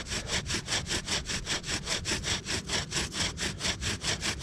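A wooden bow drill spindle saws back and forth against a wooden hearth board in a fast, even rhythm of rubbing strokes, close and continuous.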